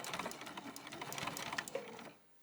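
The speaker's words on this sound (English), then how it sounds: "now I'm going to reverse and sew again" A sewing machine runs steadily in reverse while stitching a purse strap, a dense buzzing whir that carries close and fairly loud for about two seconds, then stops abruptly.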